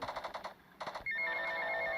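A phone rings in the video game GTA Vice City, first as a quick run of pulsing electronic chirps, then as a sustained, bright ringing tone, clear and fairly close.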